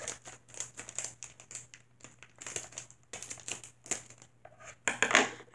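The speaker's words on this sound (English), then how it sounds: "I got my handy dandy scissors. So then we just cut it open, I guess." Scissors snip open a crinkly plastic Unikitty mystery pack, giving a run of close, sharp crinkling and crunching bursts with short pauses, ending in a louder rustle.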